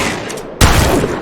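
A single heavy blast from the Mastiff shotgun in Apex Legends lands abruptly and loudly midway, followed by a ringing, slowly decaying tail over low background noise.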